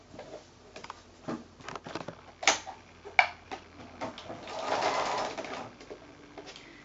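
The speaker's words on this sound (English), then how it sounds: "we're going to sew down this seam here" A sewing machine stitching a quarter-inch seam on a quilt block, heard as a run of soft ticking and patter, with a steadier, louder stretch of sewing near the end at moderate level.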